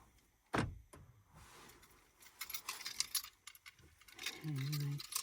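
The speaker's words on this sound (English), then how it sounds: "And my keys right here." Keys jangle inside a parked car while car camping: a quiet scene with an early thud, then faint, irregular metallic rattling, followed by a brief steady tone near the end.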